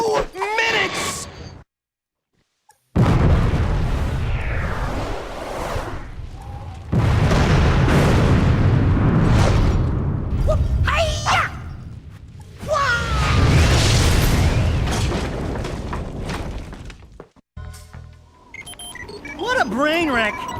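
Bombs go off in the video game Jak 2 as deep, loud booming blasts in several separate bursts, broken by short silent gaps and mixed with game sound effects and voices.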